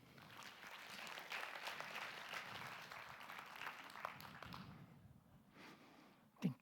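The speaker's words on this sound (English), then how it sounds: "Please give her an applause." A conference audience at an AI summit applauds a speaker coming on stage: faint, distant, dense clapping that thins out and fades near the end, followed by a brief bump of handling noise.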